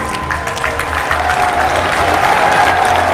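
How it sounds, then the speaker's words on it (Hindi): A large crowd at a university foundation-stone ceremony applauds steadily to welcome the Prime Minister, the clapping loud and continuous with a faint tone running underneath. "अपनी तालियों के प्रणाम आप मंच तक पहुँचाएँ।"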